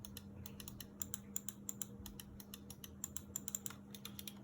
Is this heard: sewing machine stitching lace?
no